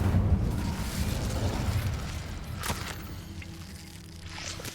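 An Incendio fire spell cast in Hogwarts Legacy, a loud whooshing burst of flame that roars at first and then fades, with a sharp crackling pop partway through.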